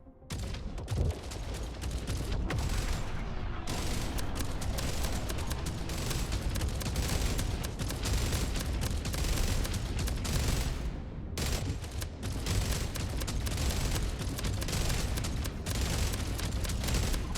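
A ship fires its guns in the Jump Ship video game, loud rapid bursts of gunfire that rattle on almost without pause, with brief gaps between volleys and heavy booming impacts.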